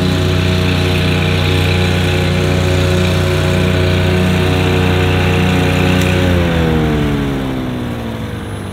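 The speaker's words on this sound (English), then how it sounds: "As you can tell, the mower turns off, the blades turn off." A Wright robot lawn mower runs loud and close with a steady engine drone, then winds down with falling pitch as the machine and blades shut off near the end.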